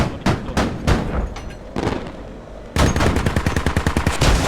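Loud close gunfire in the Squad military shooter game: several single rifle shots followed by a rapid automatic burst of about a dozen rounds.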